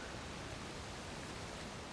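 Waterfall in the video game Uncharted The Lost Legacy, a dense, even roar of rushing water filling the whole short stretch at constant loudness, with no voices over it.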